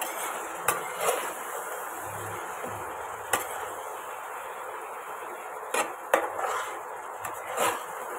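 Spiced meat for kosha mangsho being stirred in a pot: scattered metallic clinks and scrapes of a spoon against the pot at irregular moments, fairly close, over a low steady background with no talking.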